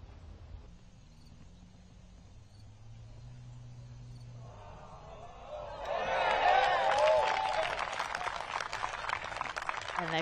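Spectators at a women's pro disc golf final round erupt in a swelling cheer after a shot lands near the basket, following quiet ambient background, the roar building loud and sustained through the end.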